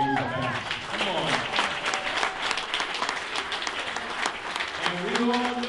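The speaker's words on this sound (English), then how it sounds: "Let's just give a big round of applause for our Razorbacks" Gala crowd applauding the Razorbacks, a steady wash of clapping that fills the room for several seconds while voices carry over it.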